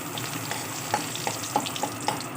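Dried red chilli, whole cumin seeds and a bay leaf sizzle steadily in hot mustard oil in a kadai, with a few sharp crackles and pops rising above the continuous close frying hiss.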